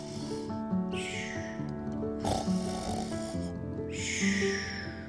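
A voice imitates a bear snoring, with long rasping drawn-out snores at a slow steady rhythm, heard close and loud against a soft musical background.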